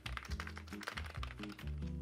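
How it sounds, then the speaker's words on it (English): Rapid keyboard key clicks, a quick run of close, crisp taps in an uneven typing rhythm. "The keyboard, let me hear the click."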